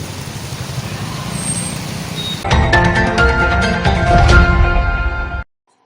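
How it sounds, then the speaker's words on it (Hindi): Fire brigade trucks spray water onto hot city roads in Bhilwara, a loud, close rush of engine and spray noise that changes character partway through before cutting off abruptly. "शहर की सड़कों को ठंडा रखने के लिए फायर ब्रिगेड की गाड़ियों से सड़कों पर पानी का छिड़काव किया गया।"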